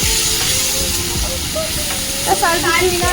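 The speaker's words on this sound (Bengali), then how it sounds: "পেঁয়াজটা প্রথমে অল্প তেলের মধ্যে ভেজে নিচ্ছি অল্প তেল দিয়েছি" Chopped onions fry in a little oil with a constant, loud broadband sizzle throughout, and a voice is faintly heard talking over it toward the end.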